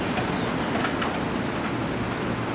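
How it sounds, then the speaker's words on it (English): Steady rain falls during a big thunderstorm in Ontario, a dense, even wash of patter with faint low rumbling beneath, no voices. "There's a big storm right now."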